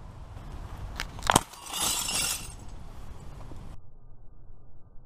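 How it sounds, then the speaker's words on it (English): Glass struck and broken by a shot from a Daisy Powerline 426 BB gun: a sharp crack followed by a bright, splintering shatter of falling shards lasting about two seconds, then quiet room tone. "We're gonna try this glass against this BB gun and see if it can go through."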